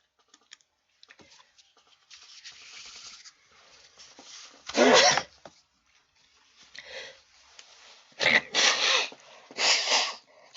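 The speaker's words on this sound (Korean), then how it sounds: "제가 코를 풀어서 죄송합니다" A man with a cold blows his nose several times during a Korean sermon. There are a soft honk near five seconds, then three louder, close bursts toward the end, with faint rustling between them.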